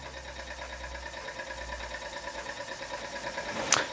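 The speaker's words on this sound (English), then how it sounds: "Swan M1 running under its own steam." A Swan M1 model steam engine running under its own steam, with a quick, even mechanical chuffing and clatter close by, steady throughout and ending in one sharp knock.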